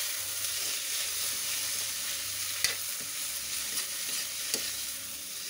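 Food is stirred in a sizzling pan, a close, continuous frying hiss broken by a few sharp clinks and scrapes of the utensil against the pan.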